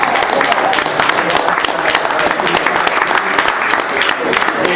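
Guests at a Belgian club's anniversary banquet applaud their honorary president, loud dense clapping filling a room, steady and close, with a few voices mixed into the ovation.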